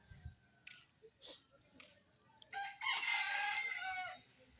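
Chickens cluck in the background, then a rooster lets out a loud, drawn-out crow.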